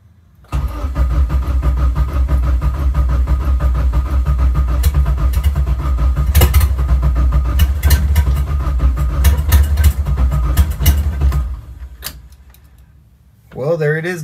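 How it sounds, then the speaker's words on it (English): A Honda K20A engine swapped into a car cranks and turns over with a steady grinding whir for several seconds, stutters, stops, then briefly cranks again; close and loud. "These Japanese motors sit for a while, so sometimes you just need to give it that extra crank."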